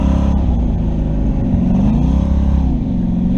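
A car with a failing Turbo 350 transmission in second gear, engine droning loudly and steadily as it is given gas, the low rumble surging and dipping unevenly as the drivetrain catches and jerks.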